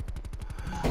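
Rapid burst of about a dozen gunshots in a video game, quick and evenly spaced, fairly faint and close, ending in a louder muffled thump.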